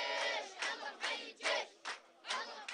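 A crowd at a national reconciliation gathering in Hama chants in rhythmic bursts, about six loud surges of voices repeating at even intervals.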